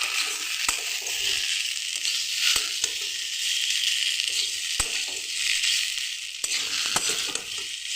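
Sukto with radhuni paste being stirred in a frying pan, a steady bright sizzle broken by occasional sharp clicks and scrapes of the spoon against the pan, close and continuous.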